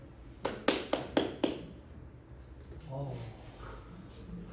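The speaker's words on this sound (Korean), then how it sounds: "그러니까 비꼬는 듯한 박수 아니었어?" Five sharp, evenly spaced hand claps ring out in a quiet classroom as sarcastic applause during a math lesson, followed by low voices talking.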